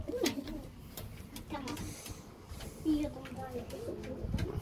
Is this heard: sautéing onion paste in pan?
no